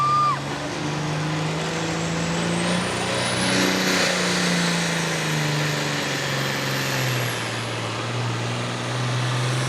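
A pulling tractor engine roars at an outdoor tractor pull event in Langford, New York, a loud sustained drone whose pitch wavers and drifts lower over time, heard from a distance, with no talking.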